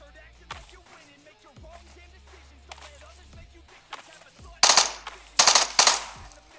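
Gunfire in PUBG, a video game: faint scattered shots early on, then several loud close automatic bursts near the end, with no one talking.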